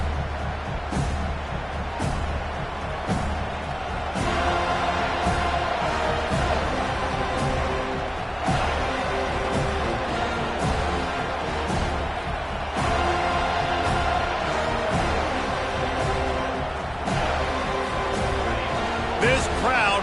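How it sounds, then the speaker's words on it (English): A packed stadium crowd roars in a college football video game at the Seminoles' opening kickoff, a steady dense wall of noise under continuous commentary. "This crowd bringing an ear-splitting welcome to their visitors."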